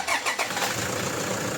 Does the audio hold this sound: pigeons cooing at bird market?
no